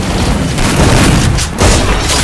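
Loud, close booming explosion in a shooter video game during a fast tournament match, a heavy rumbling blast with a second burst near the end and no talk.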